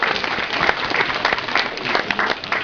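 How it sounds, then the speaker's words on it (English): An audience at a Sonic fan convention claps in a lively, sustained round of applause, dense and close throughout with uneven surges. "Big round of applause, guys."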